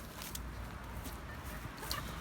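Backyard chickens cluck softly and steadily against a dense, noisy outdoor background, with no single bird standing out.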